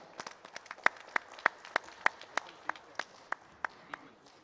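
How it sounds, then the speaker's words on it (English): Scattered hand claps from a small audience at the BioAsia 2026 conference, roughly a dozen sharp, fairly faint claps in an uneven rhythm across a quiet hall. "he deserves a huge round of applause for that"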